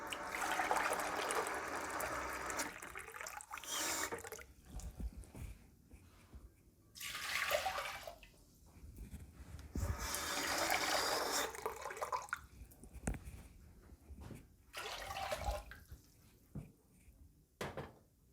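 Hot water poured into a pot while mixing wheat paste for clay paint, heard as several bursts of splashing, trickling liquid at close range with short pauses and clinks between pours.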